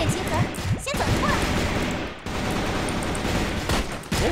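Gunfire in the video game CrossFire: rapid, close shots and impacts crackle throughout in dense bursts, with a short lull midway, mixed with whooshing game effects.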